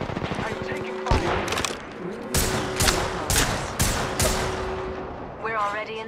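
Bursts of automatic gunfire in the Apex Legends battle royale game, several rapid volleys one after another at close range, with squad voices talking over parts of the shooting.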